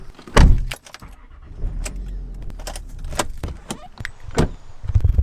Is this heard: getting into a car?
yes